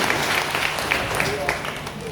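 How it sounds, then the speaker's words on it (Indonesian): A small group claps steadily for a couple of seconds, the applause close and moderately loud with a voice talking over it. "Kita beri tepuk tangan ya untuk anak muda ini."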